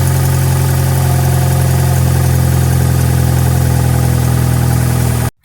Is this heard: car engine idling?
yes